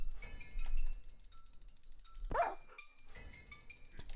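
A single short bark, a sharp yip, comes from a Minecraft dog over quiet game background sounds, with no speech.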